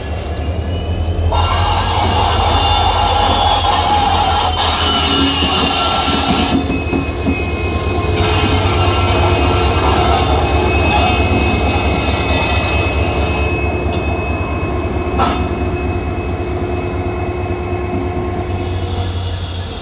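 A loud, continuous rumble of a Madurai to Bodi train hauled by a WDP4D diesel locomotive of Golden Rock shed, with wheel and carriage noise rolling throughout and a few sharp squeals.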